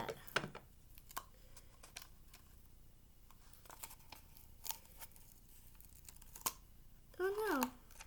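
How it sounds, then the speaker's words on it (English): Scissors cutting through tape on a toilet paper roll craft: a few quiet, sharp snips spaced through a mostly quiet stretch, then a brief louder crinkle near the end. "Cut that."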